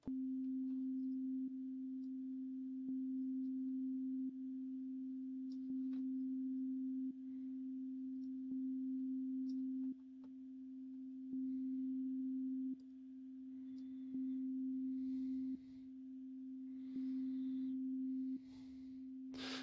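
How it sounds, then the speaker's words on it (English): A steady sine-like test tone is run through a downward compressor with a long release time, so its level dips and then slowly swells back every second or two, giving a repeated pumping rise in loudness with no voices. "with a higher release time, we can get these kind of pumping sounds where the sound slowly comes in"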